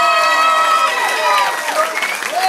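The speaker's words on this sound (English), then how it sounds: "Just a round of applause please for James Hadley." Audience applause after the result of an amateur boxing bout, a loud, sustained burst of clapping from a crowd in the hall, with an announcer's voice over it.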